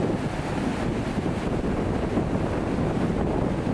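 Cachoeira da Torre, a huge multi-tiered waterfall in São Bernardo do Campo, sends up a steady, dense roar of rushing water, broadband and unbroken throughout, close and fairly loud with no voices.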